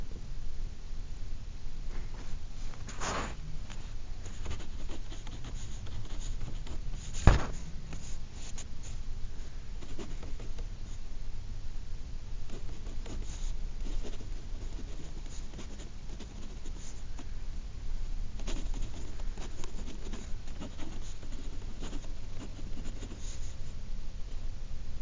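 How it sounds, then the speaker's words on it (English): A pencil scratches across paper while working out a calculus graph problem, a faint, steady scribbling texture that runs for about 25 seconds with brief pauses and one sharp tap near the start. "So let's write that down."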